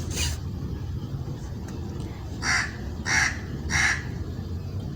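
A crow gives one harsh caw outdoors, then after a pause repeats three more evenly spaced caws, all heard fairly close over a constant low background rumble.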